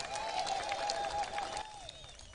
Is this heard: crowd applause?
yes